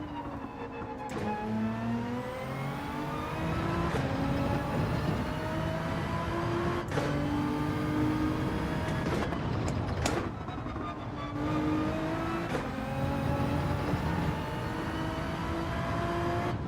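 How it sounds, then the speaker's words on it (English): Nissan GT-R engine in Gran Turismo 7 revving hard and climbing through the gears in repeated rising sweeps, loud and close, with brief dips at shifts and no talk over it. "make sure we don't over rev it too much there"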